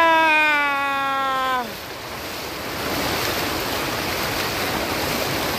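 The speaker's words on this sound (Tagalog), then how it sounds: "Lakas ng tubig." Strong rushing water flowing down from a mountain over an old road turned river, a loud steady roar that follows a brief harmonic tone fading out early.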